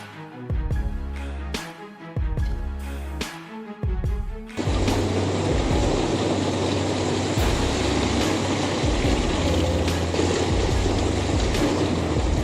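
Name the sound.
industrial drum wood chipper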